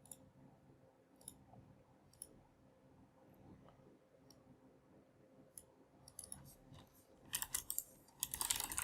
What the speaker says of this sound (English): Maybe I should just type it in here.